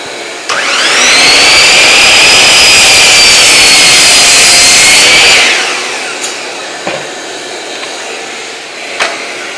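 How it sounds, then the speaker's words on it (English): A small shop vac whines up to a loud, steady roar for about five seconds, then spins down. Faint clicks and knocks from workshop handling follow. "Turn on my little shop vac here"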